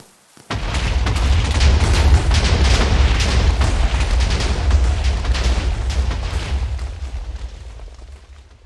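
A huge Minecraft blast erupts after a brief pause, a deep sustained boom with rumbling debris roaring for several seconds before slowly fading, loud and close with no voices.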